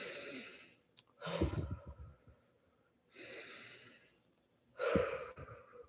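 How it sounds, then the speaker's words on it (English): Three slow, deep breaths taken while standing, each a long airy inhale or sigh with a soft exhale, spaced evenly and close to the microphone in a quiet room. "take 3 deep breaths"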